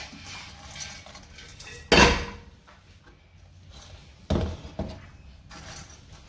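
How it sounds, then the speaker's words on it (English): A metal stove-top pot of hot homemade popcorn clanks against a bowl as it is emptied, with a few sharp knocks and scraping bursts separated by quieter gaps, close and fairly loud, no talking. "Let's empty it into this bowl."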